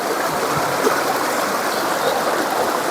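Steady rushing river water flowing close by where a coconut is being washed at a Jamaican riverside, a dense continuous wash of sound with no talk.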